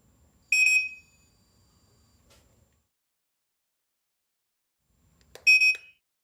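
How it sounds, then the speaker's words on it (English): A Fortress doorbell receiver in programming mode gives two short, bright electronic beeps several seconds apart in an otherwise quiet room. "The receiver will beep twice."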